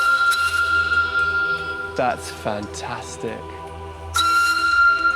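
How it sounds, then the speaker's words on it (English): A steam whistle on a pumping engine, sounded by pulling its cord, gives a steady high shrill tone at moderate loudness, broken briefly in the middle while a person speaks, then returning strongly near the end. "Simply blow the whistle, let people know you're about to start."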